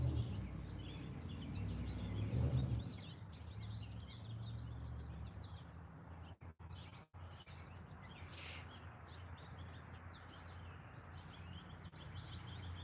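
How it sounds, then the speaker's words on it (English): Birds chirping outdoors, scattered faint tweets over a soft steady background hiss, with a brief louder thump early on and a few short dropouts. "You hear the birds?"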